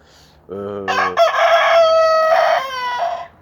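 A rooster crows loudly and close, one long drawn-out call that follows a short clucking lead-in from a hen, with no other sounds around it.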